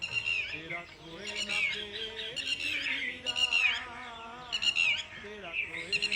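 Sparrows and crows chirp and call continuously in a busy chorus from nests in a large tree, overlapping calls near and farther off, with a voice speaking quietly underneath.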